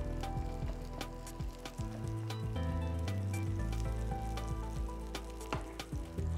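Food fries in a mix of butter and oil in a pan, a close, continuous crackling sizzle with sharp pops scattered throughout, heard under a low background hum, no talk.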